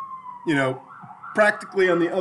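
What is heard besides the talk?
siren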